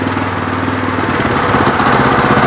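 Engine of a Weima WM1100C-6 walk-behind tractor with differential, pulling away in first gear: a loud, steady close-up mechanical drone with rhythmic low thumping, continuous throughout without speech.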